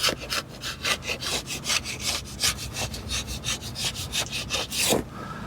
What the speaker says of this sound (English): let's get a gasket scraper out here and see what we can do